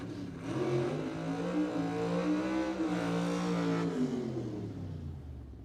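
A drag race car with a five-speed transmission screams down the strip at a racetrack, engine note rising and falling through several quick shifts, loud and steady before fading away at the end.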